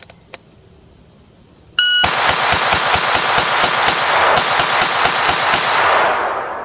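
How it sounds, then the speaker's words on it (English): A shot timer beeps, then a pistol fires a rapid 16-round string in tight, even succession, loud and close, with the timer tone sounding under the shots. A faint click comes before the beep. "Another 16 round dump on the buzzer."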